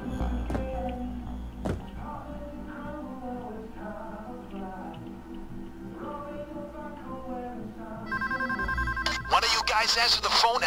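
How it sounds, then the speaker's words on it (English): In the video game Payday 2, during a stealth robbery at a bank, a telephone rings repeatedly in steady bursts under game dialogue and background noise, followed by a louder electronic burst near the end. "Answer the phone and pass me through."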